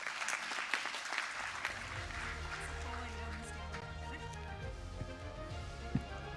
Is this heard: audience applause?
yes